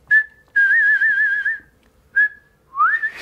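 A person whistles a sustained note with a tongue-driven vibrato, wavering steadily, between shorter whistled notes and a rising slide, close and clear with no talk.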